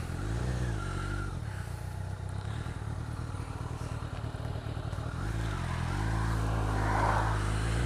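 A motorcycle pulls away, its engine revving up and down through gear changes at moderate distance, with a rough, throbbing exhaust note and no talk.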